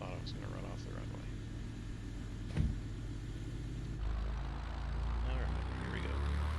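A simulated aircraft taxis in Microsoft Flight Simulator 2024, its steady engine drone and low rumble continuous throughout, with one brief thump partway through and the engine note rising slightly toward the end.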